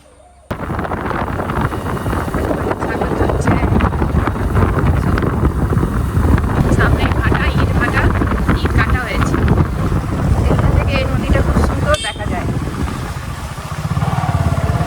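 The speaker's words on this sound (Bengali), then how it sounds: "কত নৌকা চলছে আজকের নদীতে সব জেলে নৌকা" Fishing boats move along a river by day, a steady loud motor drone running throughout, rough and wind-buffeted, with a brief sharp knock near the end.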